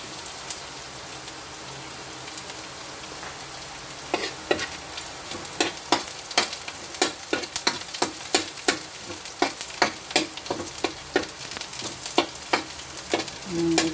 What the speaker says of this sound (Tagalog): Medyo mapula-pula na yung bawang saka sibuyas.